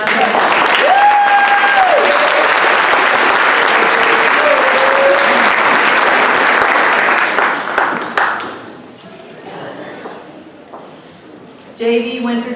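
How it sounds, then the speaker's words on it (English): A crowd at a school sports awards event applauds fall athletes in loud, sustained clapping with cheers and whistles on top, fading out after about eight seconds into quieter room noise, then brief talk near the end. "Let's give all of our fall athletes a big round of applause."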